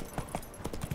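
Roach, the horse in The Witcher 3, clip-clops with several quick hoofbeats in an uneven trotting rhythm, fairly quiet and close.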